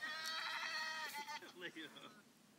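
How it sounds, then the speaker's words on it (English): A goat bleats for food in a short, close, loud cry with a wavering, shaky tone that trails off into softer bleats. "The goat's like, give me the food."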